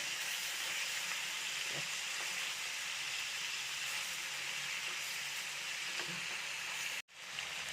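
Chicken frying in hot oil, a steady close sizzle and crackle that continues without talk until a brief cut near the end.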